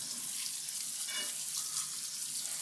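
Beef tripe is rinsed under a running kitchen tap: a steady, even hiss of flowing water splashing close by, with no voices.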